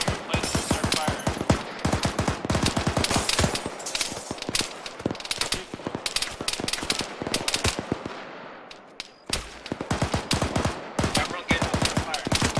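Sustained squad gunfire in a military video game, dense rapid bursts of automatic fire packed close together for most of the stretch, a brief lull near the end before the shooting resumes loud and near.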